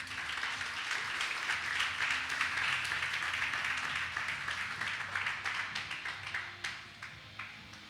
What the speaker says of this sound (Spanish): Regálale un fuerte aplauso al Señor.